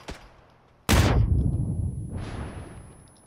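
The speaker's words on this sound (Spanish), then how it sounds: "Granada, granada, corre." A grenade explodes in a shooter game with a single loud blast and long rolling rumble, preceded by a faint distant gunshot and followed by a second swelling whoosh of debris.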